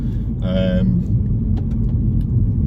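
Constant low tyre and road rumble inside the cabin of a 2016 Mini John Cooper Works F56 riding on run-flat tyres, a steady droning roar with a brief voice over it.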